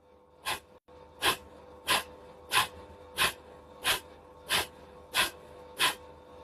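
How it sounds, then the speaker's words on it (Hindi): Forceful yogic nasal exhalations in a steady rhythm, nine sharp breath bursts spaced under a second apart, close and clear with no talk, as in kapalbhati-style breathing practice. "आपकी हर बार ब्रीथ बाहर जाएगी और पेट अंदर की तरफ जाएगा"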